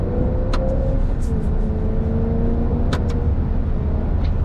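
A 2006 Maserati Quattroporte Sport GT engine pulling steadily at around 4,000 rpm while driving through the country, a smooth sustained drone heard from inside the car with faint clicks over it.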